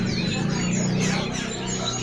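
Tame pet birds at a bird kiosk chirp and call continuously, a dense layer of overlapping tweets with a steady low hum underneath.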